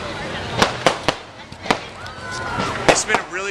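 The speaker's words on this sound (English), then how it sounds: "Fireworks. What a night." Fireworks burst at a fair at night, with sharp booms and cracks scattered irregularly over crowd noise and nearby voices talking.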